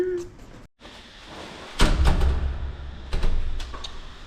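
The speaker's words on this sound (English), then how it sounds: "So painful, this door." A sleeper carriage door on a night train from Chiang Mai to Bangkok, Thailand, slides open with a loud rumbling thud and a sustained grinding scrape, with a couple of clunks toward the end.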